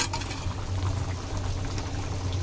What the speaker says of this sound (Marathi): त्याला पण छान उकळी आलेली आहे.